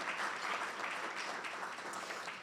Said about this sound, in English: I want you to give him a huge applause as well